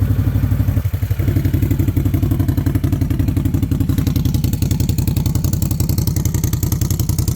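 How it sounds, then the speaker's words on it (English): A 2022 Can-Am Outlander XMR 1000 ATV engine idling close by, its exhaust putting out a rapid, even chugging pulse with some mechanical clatter, steady throughout with no talking. "I guess you folks want to hear that exhaust"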